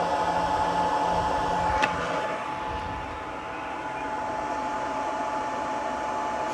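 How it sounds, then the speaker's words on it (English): Cooling fans in a Meanwell 60 amp power supply spin up under load, a steady whirring hum with a high tonal whine and a brief click partway through, heard close and with no talk over it. "you can hear the fans spin up"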